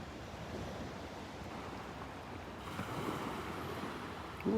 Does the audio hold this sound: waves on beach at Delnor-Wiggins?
yes